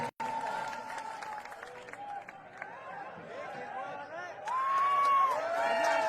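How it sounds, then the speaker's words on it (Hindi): Applause and crowd noise from an election rally crowd, heard as scattered clapping under chatter and a lot of voices, with a swell of noise near the end. "जोरदार ताली बजा के आदरणीय स्मृति ईरानी जी का स्वागत करें।"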